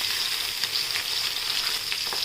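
Onions, green chilies and chopped garlic sizzle steadily in hot oil in a pan, a close, continuous hiss with small crackles, without speech.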